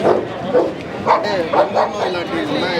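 American Bully dog at a dog show giving a run of short woofs and whimpery yips, close by and mixed with people talking.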